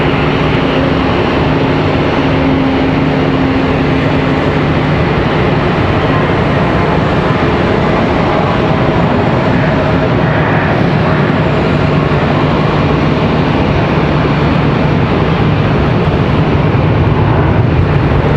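An A321 airliner arriving from Orlando lands at Charlotte Douglas airport. Loud, sustained broadband jet roar with a low rumble holds steady for about eighteen seconds, with no voices.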